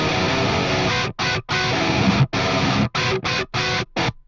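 A distorted metal guitar runs through an amp simulator on stock settings, chugging loud and close in tight rhythmic bursts broken by sharp stops and silent gaps, with no voices.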